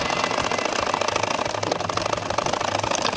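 Domestic sewing machine stitching a champa-flower nakshi kantha quilt, a steady fast mechanical whir and rattle running continuously at close range.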